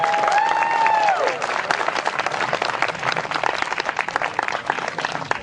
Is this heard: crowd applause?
yes